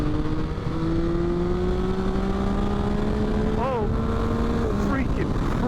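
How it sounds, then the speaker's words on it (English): A 2022 Yamaha XSR900 motorcycle engine and intake drone steadily, then the pitch climbs and dips through gear changes while riding close to the microphone, with wind rushing underneath. "doesn't this bike sound good?"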